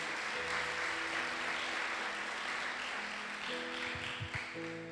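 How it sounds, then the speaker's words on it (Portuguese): Applause from a church congregation during a campaign worship service, a soft, steady wash of clapping from many people, heard faintly under a sustained background tone. "Uma salva de palmas bem forte para o Senhor Jesus"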